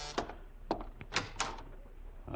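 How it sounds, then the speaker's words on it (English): A door is opened in an old radio drama, a few quiet knocks and clunks of the latch and handle, close and sparse, with no voices. "Better open the door."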